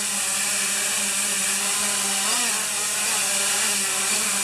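Hubsan 501s quadcopter drone hovering low over a table, its motors giving a steady, close, continuous whine with a faint wobble in pitch partway through.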